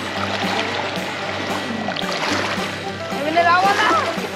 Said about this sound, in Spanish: Es una ola porque pasó el barco.